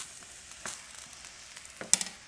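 Grease sizzles and crackles in a pan while bobotie cooks, a faint, steady fry broken by a few sharper pops near the end, with no talking.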